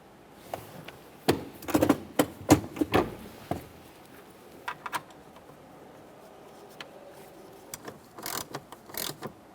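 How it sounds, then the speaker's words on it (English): A ratchet snugs three 7mm mounting bolts on a 2001-2005 Ford Explorer Sport shift lever assembly, giving close, irregular bursts of clicking and metallic knocks separated by short pauses. "Start in all 3 of our 7mm mounting bolts and snug them up"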